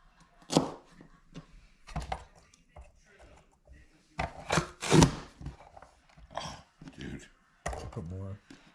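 Celery being chopped in a home kitchen with a Vidalia Chop Wizard, a few sharp clacking chops spaced unevenly under and between people talking nearby.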